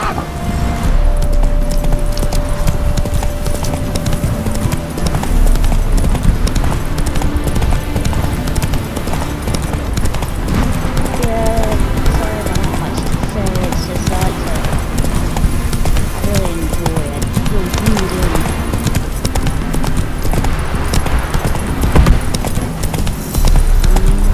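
Roach the horse gallops in The Witcher 3, with hooves beating a fast, continuous clip-clop close by while a voice speaks over it.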